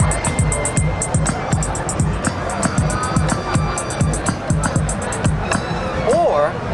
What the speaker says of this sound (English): This particular performance view, all those different drum sounds you're hearing